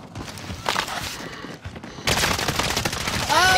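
Rapid bursts of gunfire in an online shooter game, loud and close, with a sharper volley in the second half and a brief electronic tone at the end.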